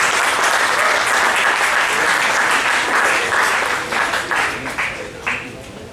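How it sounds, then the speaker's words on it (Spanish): A large audience gives a warm welcome applause to an invited museum director at a lecture, dense continuous clapping that holds steady and then tapers off near the end. "un aplauso de bienvenida muy grande"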